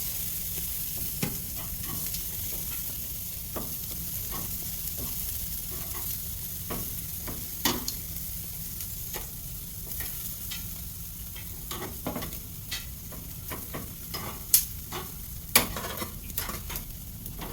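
Chicken pieces sprayed with avocado oil sizzle steadily on a hot BBQ grill after being flipped, a constant crackling hiss with scattered sharp pops and a couple of louder spits toward the end.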